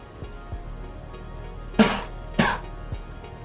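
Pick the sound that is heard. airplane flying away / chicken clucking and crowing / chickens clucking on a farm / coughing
coughing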